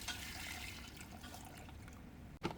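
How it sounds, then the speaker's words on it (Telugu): Boiled water poured into a pot of mutton paya curry (goat leg soup), a soft, steady liquid pouring and splashing sound heard alone, close and fairly quiet, ending with a brief clatter. "ఉడకబెట్టి పక్కెట్టుకున్న వాటరు కాల వాటర్ పోయాలి"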